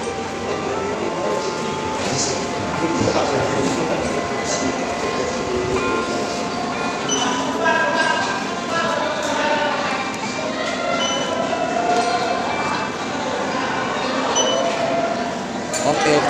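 The Penang Hill funicular railway at Bukit Bendera climbs uphill, heard from inside the carriage as a steady rumble with clinks and rattles of the car, and voices murmur beneath it throughout.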